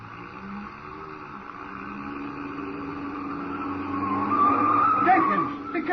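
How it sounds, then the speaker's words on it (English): Car tires screeching around a corner as a 1937 radio drama sound effect, a rising squeal building over a running engine toward the end, with voices speaking over it. "You turn that corner on 2 wheels."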